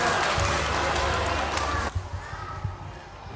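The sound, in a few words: applause for the children at a church Christmas service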